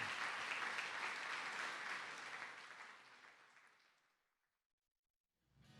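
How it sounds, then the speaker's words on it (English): Applause for inductees at a high school football event, a steady wash of many hands clapping that fades gradually to silence, with a faint voice returning at the very end. "Let's hear one more round of applause for all of our inductees."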